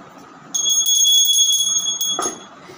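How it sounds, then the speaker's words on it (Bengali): A ritual bell rung on a full-moon day, a bright metallic ringing that starts abruptly and sustains for about two seconds, close and fairly loud, with a brief knock near the end and no talking. "পূর্ণিমা তো এই ঘন্টাটা বাজে"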